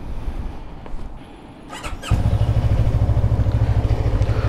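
A 2022 CF Moto 650NK motorcycle fires up close by after a few seconds of quiet rustling and handling noise, then settles into a loud, steady, throbbing idle.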